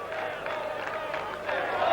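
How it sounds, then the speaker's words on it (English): Crowd at the 1985 All England snooker final murmuring and cheering in a steady broad wash, swelling louder near the end, with a commentator's voice faintly underneath. "Listen at the crowd."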